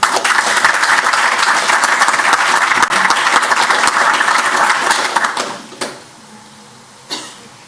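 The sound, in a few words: audience round of applause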